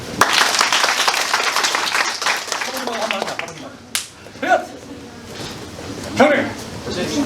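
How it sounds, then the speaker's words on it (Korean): A small group claps in a martial arts tackle class, with a burst of brisk applause at the start, then someone speaks, scattered claps and slaps following under his voice. "박수"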